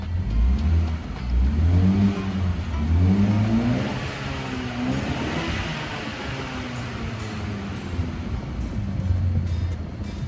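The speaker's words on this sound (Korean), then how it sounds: "상당히 우렁찬 배기음이 특징이라고 보시면 되겠습니다." MINI Piccadilly Edition in sport mode with a loud exhaust, revving and rising in pitch as the engine pulls, then settling into a steady drone with wind rush.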